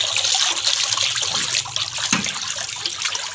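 Water is poured into gram flour batter for nimko, a steady, close splashing rush that keeps going for a few seconds with no talk over it.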